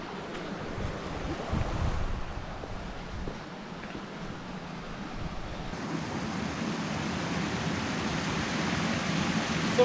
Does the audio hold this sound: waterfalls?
yes